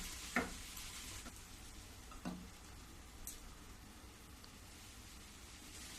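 A stuffed mango and bitter gourd masala is fried in oil with a faint, steady sizzle. A few sharp scrapes and taps of stirring come from a utensil against the pan.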